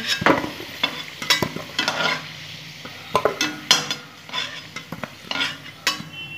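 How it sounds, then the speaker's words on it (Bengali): Potatoes frying in oil in a pan, with a soft sizzle broken by frequent loud metal clanks and scrapes of a spatula against the pan, close up. "লাল লাল করে আলুগুলো ভেজে নেব"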